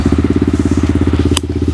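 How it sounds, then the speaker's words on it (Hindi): A Yamaha R15M motorcycle with an R9 full-system exhaust idling just after starting, giving a loud, close, steady low burbling pulse with a brief sharp click partway through. "अब मैं सुनाता हूँ इसकी फाइनली साउंड क्या आती है।"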